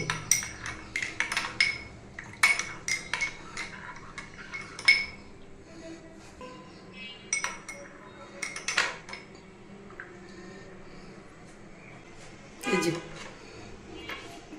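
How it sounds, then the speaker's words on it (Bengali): A spoon stirring lemon tea in a cup clinks against the ceramic in quick irregular bursts separated by quiet pauses, with a louder rattle near the end and faint voices in the background. "এবার একটু নেড়ে নেব"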